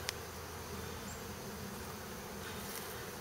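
Steady, dense buzzing of many honey bees, a continuous low drone at an even level with no pauses and no voices.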